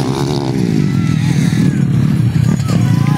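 Motocross motorcycles race around a dirt track, engines droning and revving loudly and steadily, with a commentator talking over the noise.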